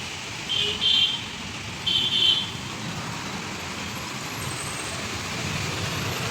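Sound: vehicles driving through flooded road in heavy rain

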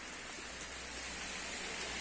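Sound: rain falling

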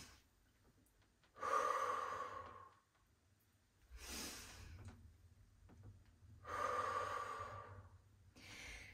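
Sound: deep inhale before a squat

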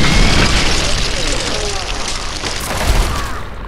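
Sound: rocket explosions in video game Fallout 3

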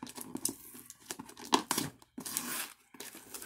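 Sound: strong tape being pulled off a Loot Crate box

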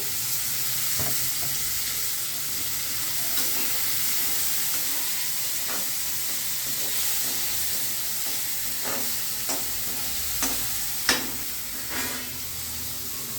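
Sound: thinly sliced potatoes frying in a pan

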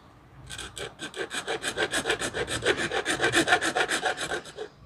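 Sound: filing down plastic board to fit a bulb holder

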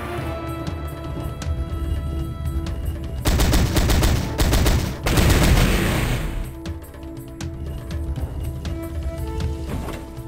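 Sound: M60 submachine gun firing in Powerslave video game

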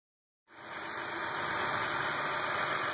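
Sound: BMW car engine started and idling

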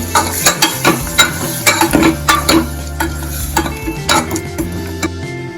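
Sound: stirring drumstick curry in a pot

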